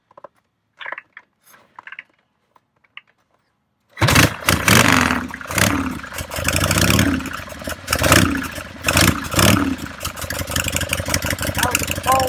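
A 74XLH Stroker motorcycle engine fires up cold after a few faint clicks and quiet seconds, then runs loud and close with a lumpy idle and repeated revs.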